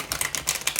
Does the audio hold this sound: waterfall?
no